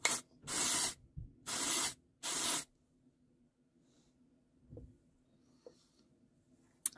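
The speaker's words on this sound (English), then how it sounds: "you have their Instant Fullness Dry Cleanser. It's kind of like your dry shampoo" Three bursts of Noxin Instant Fullness Dry Cleanser dry shampoo sprayed from an aerosol can, each a loud, close hiss lasting about half a second, followed by quiet with faint handling sounds.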